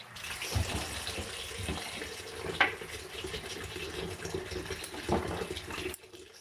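Tap water runs steadily over organic string beans being washed in a kitchen sink, a continuous gushing flow with a few brief splashes and clatters, close and moderately loud.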